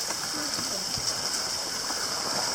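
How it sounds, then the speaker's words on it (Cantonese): A small waterfall on a hillside trail near an old mine cave, its steady hissing rush of falling water continuous throughout, with faint voices of hikers nearby. "嗱，呢個瀑布仔幾靚嘅"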